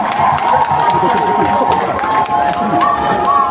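A large outdoor crowd at a presidential rally in Makokou cheers and applauds while vehicles depart, a loud, continuous roar of voices with sharp whistles and clapping cutting through.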